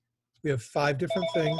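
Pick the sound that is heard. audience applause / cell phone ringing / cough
cell phone ringing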